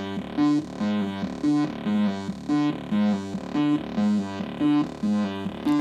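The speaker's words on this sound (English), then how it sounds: "let the oscillator just play it, it sounds something like this." A Moog Model 15 complex oscillator plays an arpeggio by itself, a looping buzzy synth pattern that pulses in regular, repeating steps with a bright sweeping tone, loud and close.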